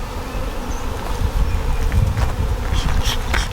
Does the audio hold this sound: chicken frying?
no